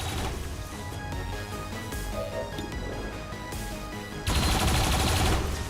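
Rapid turret gunfire in XCOM 2, sustained automatic bursts over game music, with a louder, denser volley erupting near the end.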